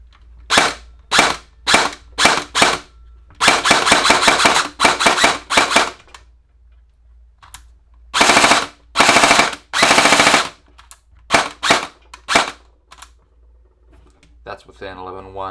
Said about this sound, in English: And this is what it sounds like before.